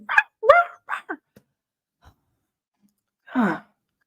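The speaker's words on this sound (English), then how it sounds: "why does your dog start barking every fucking time I start streaming?" A dog gives several short, sharp barks in quick succession, then a pause with faint rustling before one last longer, whining bark, heard alone at moderate distance indoors.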